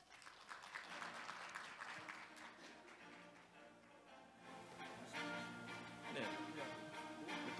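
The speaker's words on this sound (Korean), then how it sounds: "여러분, 교수님을 큰 박수로 환영해 주십시오." A conference audience applauds steadily for several seconds, welcoming a guest speaker, a dense patter of clapping that swells slightly toward the end.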